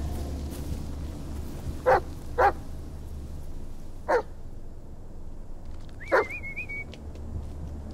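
A dog in the Blair Witch video game barks four times at uneven intervals, with a pair of quick barks, a pause, then two more, the last trailing into a rising whine, all over a low ambient drone.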